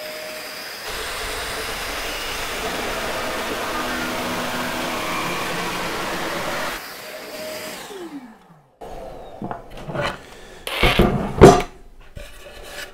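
A Peugeot 18V cordless jigsaw making a curved cut buzzes steadily for several seconds, then winds down, followed by scattered knocks and handling clatter.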